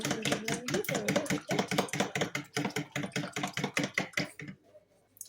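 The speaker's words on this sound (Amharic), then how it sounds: "ይህን እንግዲህ በሹካ ማንኪያ እንመታዋለን።" Eggs are beaten with a fork in a bowl, giving a fast, even run of sharp clicking taps that stays close and loud and then stops abruptly near the end.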